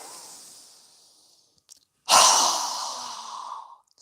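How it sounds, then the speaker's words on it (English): A deep inhale followed by a strong exhale through a wide-open mouth during a yoga breathing exercise: a faint airy intake, a brief pause, then a loud, breathy rush of air that tapers off over about two seconds. "exhale with a strong breath with our mouth open wide as we lower our hands down"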